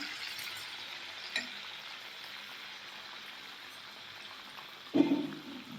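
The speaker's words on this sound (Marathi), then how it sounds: "मीडियम गॅसवरती आपल्याला फ्राय करायचं आहे" Dahitri, a traditional Marathi sweet, fries in a pan on medium gas with a soft, steady, fairly faint sizzle, broken by a light knock early on and a louder clatter near the end.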